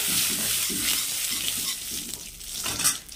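Panch phoron spices hiss and crackle in hot oil with a bay leaf for a pea dal with bottle gourd stems. A steady, close sizzle with light stirring runs throughout, and no one speaks.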